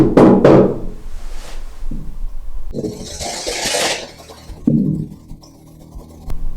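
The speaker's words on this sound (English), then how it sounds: "Can you bang on the bed like this?" Knocks and bangs on a bed in an old gaol during a ghost-hunting investigation: a few sharp thuds close together at the start, then scattered softer bumps and a burst of hiss, with no talk.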